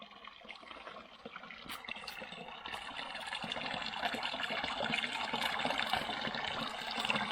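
Water pouring steadily from a pipe into a sheep watering point on a countryside hike, a continuous splashing rush that grows slightly louder, heard nearby with no talking.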